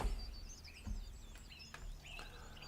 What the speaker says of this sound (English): Oh, wow, you birds! You talked right through my story.